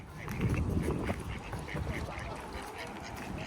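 Ducks quack repeatedly over outdoor ambience in Prague, several calls overlapping at moderate distance, with faint voices murmuring in the background.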